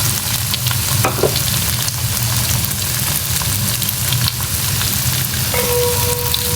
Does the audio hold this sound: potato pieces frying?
yes